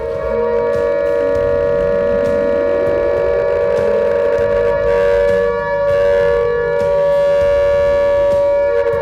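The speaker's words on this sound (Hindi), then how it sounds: "सायरन बजेगा, सड़कों पर सन्नाटा छा जाएगा।" A loud, steady air-raid siren wails continuously in Taiwan during a war-preparedness drill, a sustained droning tone with faint bell-like chimes ringing beneath it.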